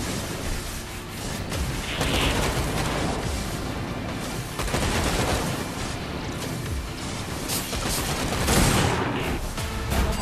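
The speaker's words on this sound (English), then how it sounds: "Someone is on top shooting or what?" Dense, loud gunfire crackles nonstop from shooting in the VR game Stormland, a barrage of overlapping shots and booms filling the whole stretch with no pauses.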